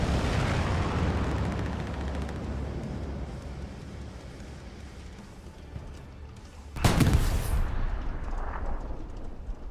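Artillery shells landing on a garrison in a war video game: rumbling distant booms under the battlefield din, then one loud close blast that cracks sharply and fades away over a couple of seconds.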